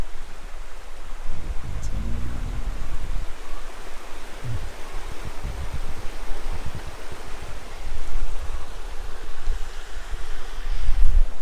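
A river in Washington DC rushes steadily in a broad, continuous wash, mixed with gusty wind buffeting the microphone.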